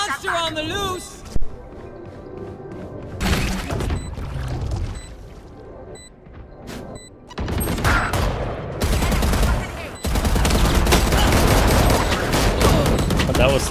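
Bursts of gunfire in the tactical shooter Valorant, repeated volleys that come and go in dense clusters, mixed with game effects under excited talking.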